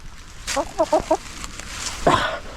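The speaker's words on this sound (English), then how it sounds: "I need to get these chickens back in." Backyard chickens give a few short, clucking calls in a quick cluster, close by and moderately loud, with a louder squawk near the end and a person's voice faintly in the background.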